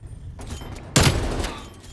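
A burst of gunfire in the video game Call of Duty: Black Ops Cold War, a sharp loud crack followed by a short rattling tail, after a quieter muffled rumble.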